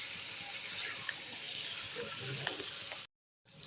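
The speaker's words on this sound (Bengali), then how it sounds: "আর দিয়ে দিলাম জল" Water poured into a curry of fried potatoes and pointed gourd in hot oil and spices, giving a steady loud sizzling, bubbling hiss that cuts out briefly near the end.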